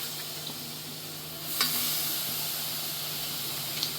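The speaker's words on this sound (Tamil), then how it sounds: "சுத்தம் பண்ணி வச்சிருக்கிற 1/2 கிலோ சிக்கன் அப்படியே உடனே அது மேலே போட்டுடலாம்" Half a kilo of cleaned chicken goes into frying onion masala, and a steady hiss jumps into a louder, fuller sizzle as the pieces hit the pan, then keeps crackling close up.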